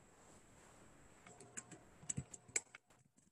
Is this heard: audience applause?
no